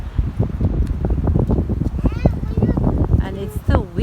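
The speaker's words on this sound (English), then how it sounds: "And it's too windy today." Strong wind blows outdoors on a street near parked cars, roaring and buffeting the microphone steadily throughout, with people talking over it.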